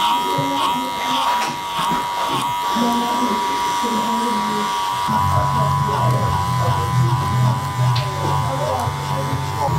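Electric hair clippers with a number two guard cut hair during a textured fringe fade on Asian hair, giving a steady, close, mid-level buzz that shifts pitch partway through as they move, with a voice present.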